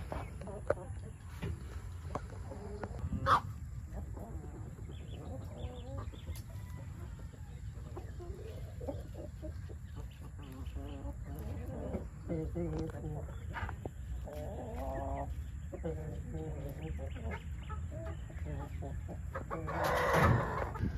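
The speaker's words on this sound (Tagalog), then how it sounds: "So eto na yung mga manok, no? Ito yung mga manok natin." Chickens on a backyard farm cluck in scattered, overlapping bursts with occasional crowing, moderately close in an outdoor setting with constant low background rumble, while someone talks over them.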